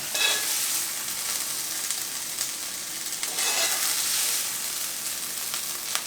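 Epazote, garlic and onion fry in a pan with a steady, bright sizzle, close and continuous, swelling slightly now and then as the pan is stirred, with no talking.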